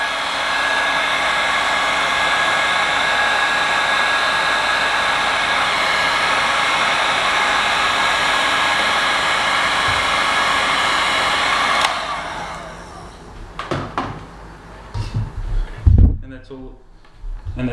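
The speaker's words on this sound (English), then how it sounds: "The heat gun." A heat gun blows hot air while shrinking heat-shrink tubing over a wire join, a loud steady rushing roar close by that cuts off partway, leaving handling clatter and faint knocks.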